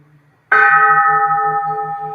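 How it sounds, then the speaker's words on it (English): A ceremonial bell rings once during a Buddhist chant, a sudden clear strike that sustains a long shimmering, slowly pulsing resonance and fades gently. "Vowing that the sound of this bell pervades the universal Dharma realm"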